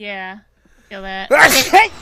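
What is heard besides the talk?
sneeze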